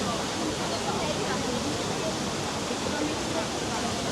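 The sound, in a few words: water flowing in the Trevi Fountain, Rome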